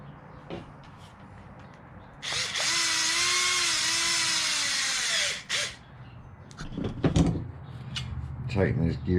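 A power tool whirs steadily for about three seconds while tightening a gear on a Losi 5ive T 2.0 RC truck, loud and close, with clicks and handling clatter before and after and a voice nearby.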